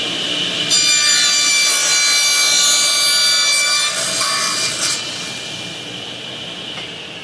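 A table saw cuts a wooden board pushed along a miter gauge against a stop board. The blade idles with a steady whine, then the loud, rasping cut lasts about four seconds before the saw drops back to a quieter hum.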